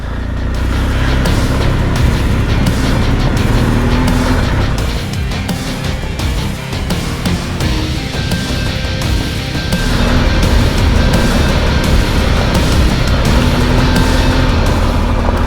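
A motorcycle ridden on a winding country road during an Occitan trail raid, its engine droning loud and steady throughout with shifting revs, close and alone with no voices.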